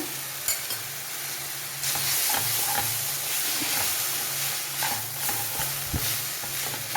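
Loud sizzling of boiled noodles stir-frying with vegetables, with repeated scraping and stirring clatter in a pan, continuous throughout, close up with no talking.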